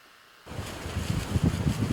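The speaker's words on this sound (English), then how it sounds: "Wind's blowing like crazy." Strong wind gusting outdoors on a hunting trip in Leakey, Texas, starting abruptly and roaring as a broad, close, fluctuating rush against the microphone with no voices.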